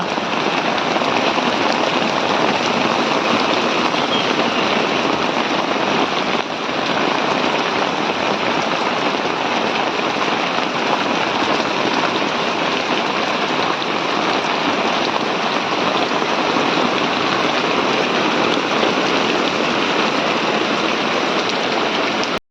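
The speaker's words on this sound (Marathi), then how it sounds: "संध्याकाळ झाली आणि पावसाने केली सुरुवात पुन्हा" Steady heavy rain pours down continuously, a dense even hiss of water hitting surfaces with no voices throughout.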